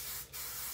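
Short burst of hairspray sprayed onto hair, a close, hissing aerosol spray that briefly dips then continues, with no talking.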